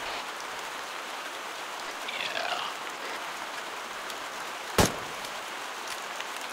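Rain falls in the Arma 3 military video game as a steady, dense hiss throughout, with a brief faint whistle and one sharp click partway through.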